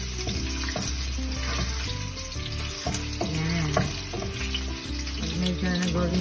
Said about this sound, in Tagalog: pag mainit na yung mantika, ilalagay natin yung ating bawang